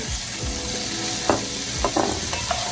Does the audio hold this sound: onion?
yes